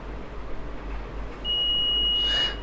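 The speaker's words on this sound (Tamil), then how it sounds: "ஸோ இப்போ ஏன் பீப் சவுண்ட் எனக்கு கேட்டுச்சு அப்படின்னா இந்த எல்இடி ஃபியூஸ் போயிடுச்சு." Multimeter in diode-test mode beeping while probing an LED, a single steady electronic tone starting about halfway through and holding for roughly a second, loud and clear over a faint background hum.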